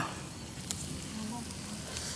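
Steady, close sizzling and crackling of tomatoes frying in a pan for chicken curry, a continuous hiss with a brief clink partway through.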